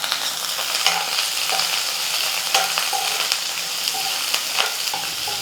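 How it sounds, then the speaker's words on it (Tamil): Large-cut onions and curry leaves fry in a pan for an egg roast, a loud continuous sizzle broken by regular spatula scrapes and taps, nearby and steady. "கொஞ்சம் கலர் மாறுற அளவுக்கு வெங்காயம் நல்லா வதக்கிக்கணும்"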